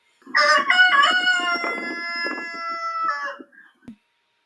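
A rooster crows loudly and close, one long drawn-out cock-a-doodle-doo with a strained, ringing tone, then a brief cluck at the end.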